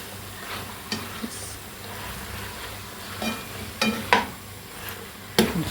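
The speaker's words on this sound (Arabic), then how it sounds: "هنخلص تشويح الفراخ كده بس ايه تتحمر معانا كويس" Chicken pieces sauté in a frying pan with a steady, soft sizzle, punctuated by a few sharp clinks and scrapes of stirring.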